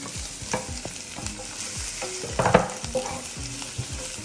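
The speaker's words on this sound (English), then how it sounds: "It sounds like a very delicious sizzling." Carrots and onion sizzle steadily in a hot pan while a utensil stirs and scrapes, with a brief louder clatter midway; no voices.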